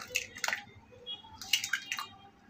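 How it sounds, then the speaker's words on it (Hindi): Four eggs are cracked into a bowl for malpua batter, with close wet drips and squishy plops in a few quick bursts, and faint clatter between them and no talking. "4 अंडे मैंने बॉल में डाल दी हूँ।"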